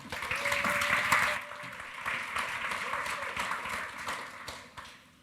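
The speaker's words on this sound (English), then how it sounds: "Big round of applause." Audience applause at a women's conference plenary session, a dense wash of clapping that swells loud in the first seconds, then settles into steadier applause before tapering off near the end.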